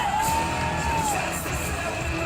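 A county fair crowd at a BMX trick show cheers and whoops to welcome a rider, a steady roar of voices with a whistle rising above it.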